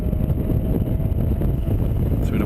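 A Mazda MX5 race car in a BRITCAR 24-hour race at Silverstone accelerates out of a corner onto the straight, its engine a steady, loud drone heard with heavy wind rush from an onboard microphone.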